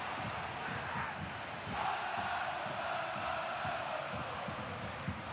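A home football crowd roars and chants in a stadium during a Friday night 2. Bundesliga match between Eintracht Braunschweig and Hamburg, a steady, distant wall of cheering with faint commentary underneath.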